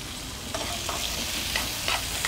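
Chopped onions with a pinch of salt fry in a pan for Ahmednagar misal, a dense, steady sizzle close up with occasional soft stirring scrapes and no voices.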